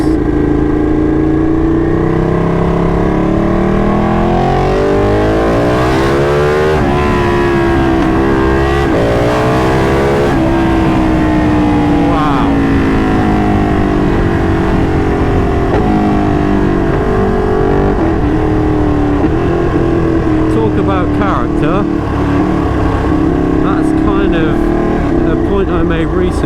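A Ducati 959 Panigale motorcycle engine revs loud and close, its pitch rising and falling through repeated throttle blips with a rough, throbbing tone. A voice talks over it.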